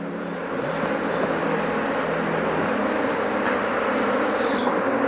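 Bees in an opened beehive during colony management, a steady dense buzzing drone filling the whole span, close and continuous with no talk.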